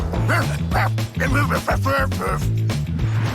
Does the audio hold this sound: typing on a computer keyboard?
no